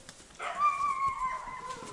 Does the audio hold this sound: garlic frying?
no